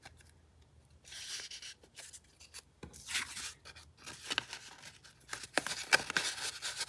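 Collage masterboard paper is trimmed in several short scissor snips and rustling paper handling, close and fairly quiet, with brief pauses between cuts and no talking.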